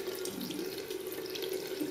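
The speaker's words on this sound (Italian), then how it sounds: "Un pochino lo mettiamo sotto l'acqua tiepida" Lukewarm water runs steadily from a tap onto a makeup brush being rinsed over a sink, a constant close hiss and patter of flowing water throughout, no talking.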